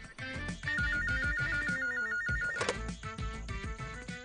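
A landline telephone rings over a dense film score in a Telugu action movie scene, its electronic warbling tone repeating steadily through the loud music.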